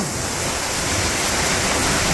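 Steady, dense rain falls in a Bangladeshi village during the rainy season, a loud and continuous broadband wash with no pauses and no voices.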